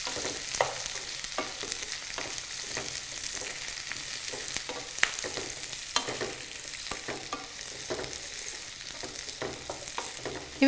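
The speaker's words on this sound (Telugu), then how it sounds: "ఆయిల్లో ఉల్లిపాయ ముక్కలు బాగా ఫ్రై అవ్వాలి" Onion pieces frying in oil for a fish pulusu, a loud, continuous sizzle dotted with frequent small crackles and light stirring clicks throughout.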